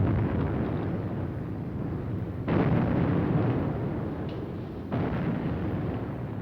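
A continuous low, rumbling roar with two abrupt louder surges of distant artillery fire and explosions booming steadily.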